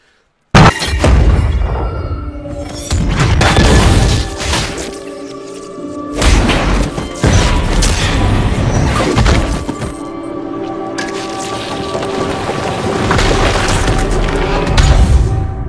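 Bomb explosion in the Arcane animated series, a loud booming blast followed by repeated heavy thuds, crashing debris and rumbling impacts lasting over a dozen seconds, with no talking.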